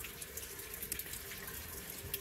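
Water leaks from a jetboat's Toyota 2AZ engine in a steady, close trickle with a few small splashes, like a constant leak pouring into a confined space.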